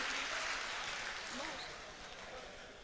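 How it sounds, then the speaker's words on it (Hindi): Audience clapping for a performer at a ghazal recital, a broad wash of many hands that is strongest at the start and slowly fades, with a voice faintly audible beneath it. "एक बार ज़ोरदार तालियां बजा दीजिए जलाल साहब के लिए"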